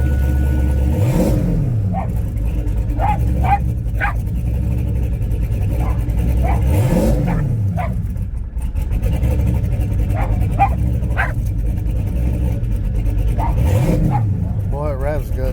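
A Gen 3 5.3-litre V8 engine revs up and falls back several times over a steady idle, loud and close, with a dog barking in the background.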